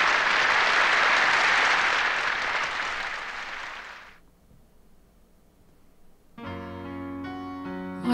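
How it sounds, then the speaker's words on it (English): Audience applause and cheering from the video game White Album 2, a dense loud roar of clapping for about four seconds that fades out before a piano-like tone starts. "The applause, cheering, and excitement from the audience becomes more fervent as she goes from one piece to the next."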